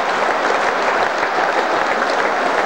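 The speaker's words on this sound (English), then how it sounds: "Standing up to applaud" Football crowd at a 1987 Division 4 match between Stockport County and Southend United applauding a goalkeeper's save, a steady, dense wash of clapping and crowd noise that holds at even loudness throughout.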